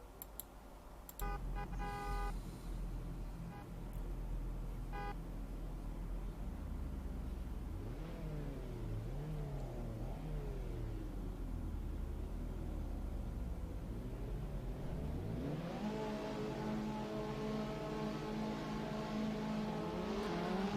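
Race cars in a racing video game replay, engines droning and revving with rising and falling pitch as several cars accelerate and pass, a short horn-like toot near the start, no talk.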